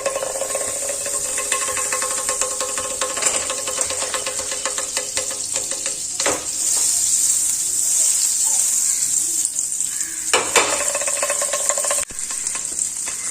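A small cube of butter sizzles and crackles steadily in a hot pan, a continuous close frying hiss with occasional brief clatters and stirring sounds, no voices.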